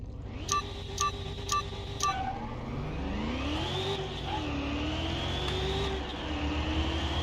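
A racing car in the video game Car Mechanic Simulator 2021 runs against a ZL1, starting with a few countdown beeps, then a loud engine revving up steadily through the gears as it accelerates.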